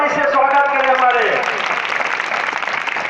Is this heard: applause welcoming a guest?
yes